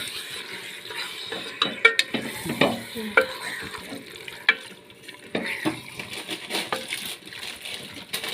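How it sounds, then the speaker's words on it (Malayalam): Beef stirred as it fries in a pan, with irregular scraping and clattering of a spoon against the metal over a soft sizzle, clustered strokes coming in bursts. "ബീഫ് ഇട്ട് നന്നായിട്ട് ഇളക്കി കൊടുക്കണം"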